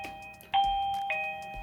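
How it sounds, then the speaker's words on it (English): A smart video doorbell, the XTU J10 battery model, sounds its chime while being set up: two clear electronic tones, a ding then a dong, ringing close and alone in a quiet room. "and then you can hear the doorbell chime."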